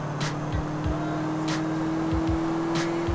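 A fast car's engine drones steadily in Grand Theft Auto IV, holding a constant hum with faint passing whooshes, loud and close throughout with no talk.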